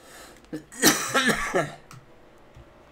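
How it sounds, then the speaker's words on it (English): A person coughs several times in a short burst of harsh, fairly close hacks, each followed by throat-clearing noise, then quiet room tone. "I seem to have picked up a cough here."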